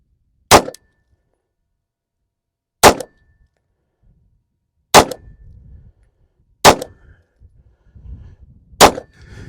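Five loud, sharp pistol shots ring out one at a time at roughly two-second intervals from a Taurus 58 .380 firing Remington hollow points, each followed by a brief metallic ring, with quiet rustling between the later shots.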